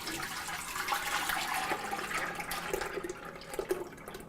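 Liquid poured from a container into a cooking pot while making borscht, a steady, fairly close pouring wash that swells and splashes a little toward the end, with no talk over it.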